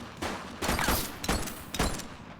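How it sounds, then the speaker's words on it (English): Bursts of gunfire from a shootout in the police simulator game The Precinct, three loud volleys in quick succession with broadband cracks, and no talk over them. "Shots fired!"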